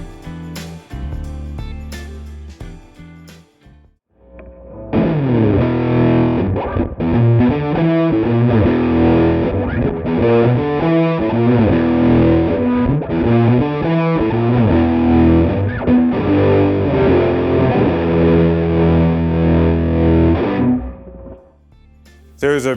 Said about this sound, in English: Now we're going to turn it totally on.